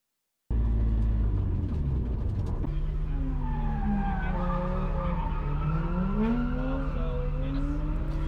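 A car drifts through a figure-eight run at a drift event, rear tires at 45 psi and fronts at 32. Loud, steady engine roar runs throughout, with long rising and falling tire squeals, close and continuous, no talk.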